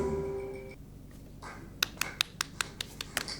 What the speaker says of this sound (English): It's a dry-ass clap.